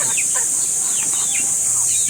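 Chickens cluck and chirp repeatedly at close range, short bird calls over a steady high-pitched background hiss.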